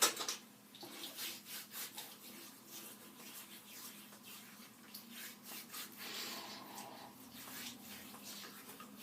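Shaving soap lather and bloom water being rubbed onto a face before a Mühle R89 shave, a close, soft, continuous wet rubbing and squishing with no talking.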